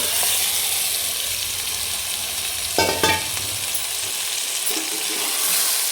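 Turmeric-and-salt-coated mutton fries in a hot pan with a loud, steady close sizzle, interrupted around the middle by a couple of sharp stirring scrapes.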